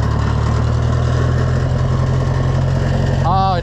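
Diesel engine of an Oliver 1250 (Fiat 415) tractor running steadily with a low, even rumble while gears are shifted, close and loud, with a brief squealing sound near the end.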